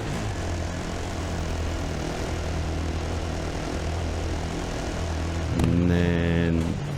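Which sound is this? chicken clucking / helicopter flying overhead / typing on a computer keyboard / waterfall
helicopter flying overhead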